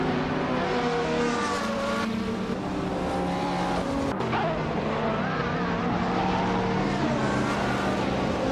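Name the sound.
race cars on track, classic 1998 Toyota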